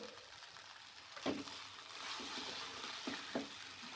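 Daliya pulao with fresh coriander being stirred in a hot pan: soft, steady sizzling broken by a few distinct scraping strokes of the spoon, heard close and alone.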